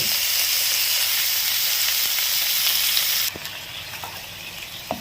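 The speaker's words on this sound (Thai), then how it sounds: "ผัดให้หอมครับผม วัตถุดิบลงไปเลย ตับหมูครับ ตับหมู" Pork liver stir-fries in a hot pan for a liver and onion-flower dish, a loud, dense sizzle that abruptly drops to a quieter frying hiss with a few soft stirring taps.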